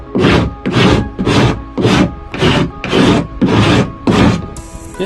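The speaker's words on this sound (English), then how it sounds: "This rasp really works well." Wooden kayak hatch being shaped with a hand rasp, eight loud, evenly spaced rasping strokes in close succession, each a rough scraping burst, with no talking.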